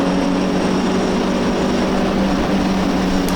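A classic MGB race car's engine drones loudly at the Silverstone GP circuit, holding a constant pitch throughout, a continuous mechanical roar with no voices and no obvious gear changes.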